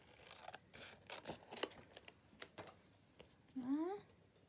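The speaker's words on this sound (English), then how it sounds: "get my scissors and just cut where I think" Scissors snipping through craft card to trim a narrow border, a few quiet crisp cuts spread across the moment, with faint rustling and a brief louder scrape near the end.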